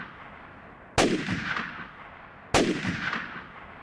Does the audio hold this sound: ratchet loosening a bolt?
no